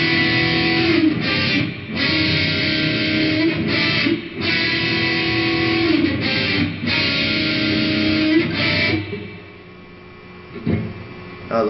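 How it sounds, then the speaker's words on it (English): Electric guitar playing the intro riff of a song, a fast, dense run of picked notes that plays on loudly and alone before thinning out near the end. "So that entire intro would sound like this."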